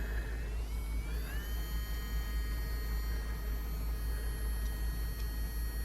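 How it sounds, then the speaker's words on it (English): A personal electric nail drill for acrylic nails runs with a thin, steady motor whine over a low hum. Its pitch rises as the speed is changed early on, then holds level. "so can you hear it? I'm changing the motor speed."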